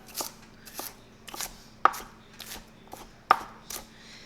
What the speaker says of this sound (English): I love purple onion on it, so I'm going to cut some of that up.